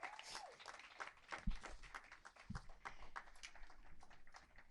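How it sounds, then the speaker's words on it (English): Scattered, fairly quiet applause from a small audience at a press conference on financial relief for the performing arts, with uneven individual claps and a couple of louder hits. "Big round of applause to them."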